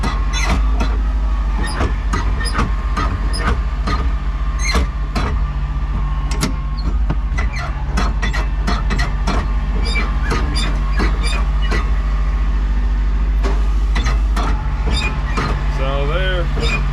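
A Cat D3C dozer's engine runs steadily and loudly up close for the whole stretch, with a deep constant rumble, intermittent clanks and clicks, and someone speaking over it at times.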